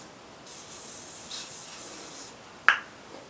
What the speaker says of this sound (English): hold that a bit away and spray over all the toilet paper to make it skin colored